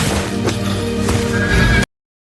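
A horse gives a loud, close whinny that runs for nearly two seconds before cutting off abruptly, with hoof-like knocks under it.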